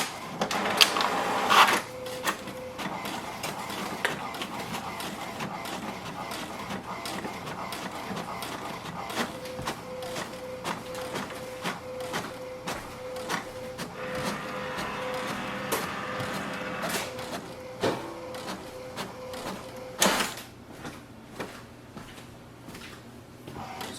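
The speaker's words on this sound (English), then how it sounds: "Wait for the printer to print the alignment page." An HP DeskJet 4310 inkjet printer printing an alignment page whirs and clicks steadily, with repeated mechanical ticks and a rising feed noise midway, ending in a sharp paper-handling clatter.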